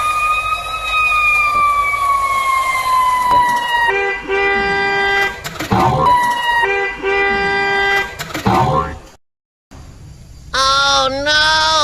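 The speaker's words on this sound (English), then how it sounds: "Fire engine." A fire engine siren wails with a long falling tone, then rapid yelping bursts, horn-like blasts and a brief silence before another rising and falling wail, loud and close throughout.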